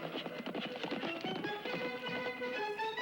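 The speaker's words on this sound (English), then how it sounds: "From out of the past come the thundering hoofbeats of the great horse Silver." Rapid hoofbeats of a galloping horse clatter in a steady rhythm, loud and close, with a ringing musical tone rising underneath.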